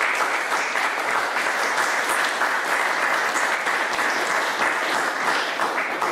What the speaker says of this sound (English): please join me in thanking all of those who I just mentioned by means of a round of applause